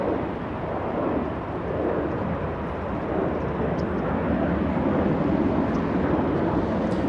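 Airliner engines at LAX airport roar steadily and loudly, a broad continuous rumble holding through the whole stretch with no voices over it.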